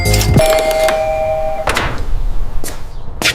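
A doorbell sounds a single close, loud chime that rings out and fades, followed by a few sharp knocks and clatters.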